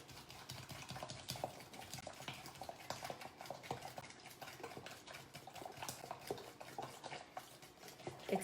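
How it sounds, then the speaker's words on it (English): A whisk beats a milk and cinnamon mixture for bread pudding in a kitchen, a steady, busy scraping and swishing against the bowl that runs without pause under faint background clatter. "whisk it together"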